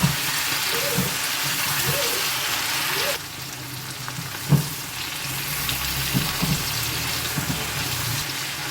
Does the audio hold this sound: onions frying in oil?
yes